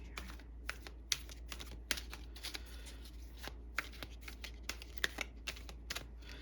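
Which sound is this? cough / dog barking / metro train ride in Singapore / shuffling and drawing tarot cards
shuffling and drawing tarot cards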